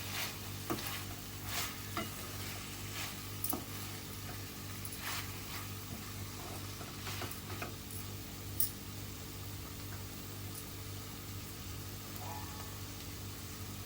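Cluster bean and pumpkin bhaji with grated coconut stirred in a pan, a steady close sizzle with repeated soft scrapes and clicks of the spoon throughout, under a faint background hum.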